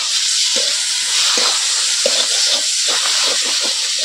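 Ground spices and chili powder frying in oil with a loud, continuous close-up hiss and sizzle, marked by repeated scraping strokes of stirring.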